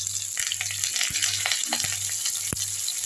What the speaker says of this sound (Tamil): இதிலே கருவேப்பிலை ஒரு கொத்து போட்டுருவோம்.